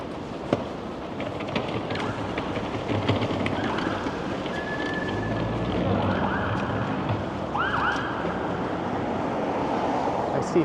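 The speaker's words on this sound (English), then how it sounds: "I see flashing lights up ahead and I hear a siren behind me" A siren wails faintly in the distance in downtown Toronto, rising and falling over a steady roar of traffic and city noise.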